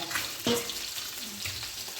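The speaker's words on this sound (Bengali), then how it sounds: "এখানে মাছ ভাজাও বসিয়ে দিয়েছি" Pomfret fish frying in a pan gives a soft, continuous sizzle with a small clink near the start, close and quiet, with no talking.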